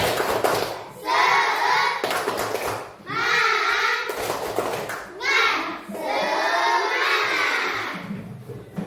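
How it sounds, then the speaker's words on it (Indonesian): A group of schoolchildren in a classroom claps in rhythm and chants loudly in unison, several bursts of clapping and shouted chanting in a roomy space. "Nah, kita mau tepuk semangat dulu. Tepuk semangat."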